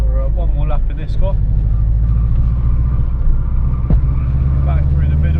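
Subaru Impreza WRX STI being driven around a race track, its engine a steady loud rumble heard from inside the car with a sharp knock partway through and no talk over it.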